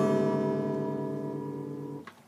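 A single soft acoustic guitar strum rings out and slowly fades over about two seconds, close-miked and gentle, ending with a small muted knock from the instrument.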